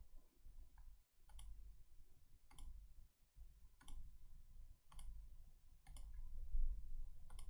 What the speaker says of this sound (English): And we are clicking through some things.